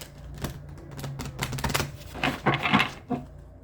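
A deck of tarot cards riffled and bridged close up, giving bursts of quick crisp flutters and taps, a few separate shuffles with short pauses between them.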